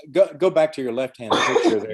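A single throat clearing breaks in close and fairly loud among a stretch of conversational speech, during an orthopedic surgery discussion; voices talk before and after it.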